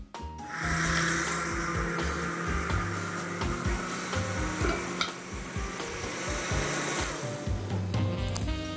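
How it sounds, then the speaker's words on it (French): Blender running steadily through a leek soup, a dense continuous whir with churning texture that holds close and loud for the whole stretch without any talking. "Donc, nous allons la mixer."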